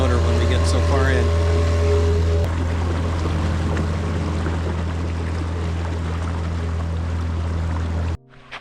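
A sailboat's outboard motor drones steadily in shallow water with a low hum and a faint splashing wash, briefly overlaid by a higher chirp near the start, then cuts out abruptly near the end.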